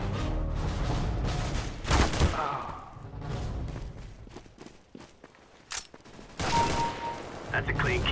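Rapid automatic gunfire rattles in bursts in an Arms Race match on the Lake map of a video game, close and loud, with pauses and footsteps between volleys.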